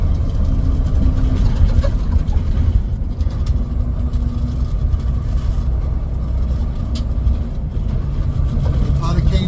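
Traffic of cars and motorcycles on the Elliott Highway in Alaska during tourist season, heard as a steady, fairly loud low engine rumble that holds throughout with no clear gaps.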